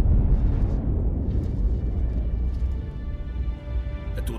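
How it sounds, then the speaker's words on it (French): An explosion in the video game Injustice hits as a heavy, deep rumbling boom that fades gradually over a few seconds, with no one speaking. "Superman a été pris dans l'explosion, mais il n'a rien."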